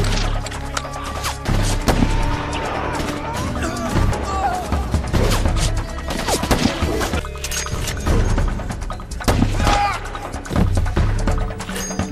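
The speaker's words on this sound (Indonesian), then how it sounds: "Dan baku tembak antara sang sniper Brandon dan pemberontak pun terjadi" Film gunfight between the sniper Brandon and rebels: rapid, loud volleys of shots and sharp impacts crackling continuously, layered over a dense background of music and effects.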